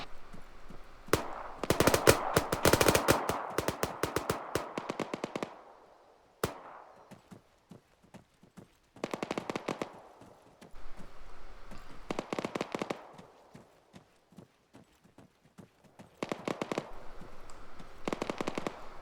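Machine guns fire in the ArmA III combat game, with long rapid bursts and stuttering volleys, some loud and close and others more distant, separated by short pauses.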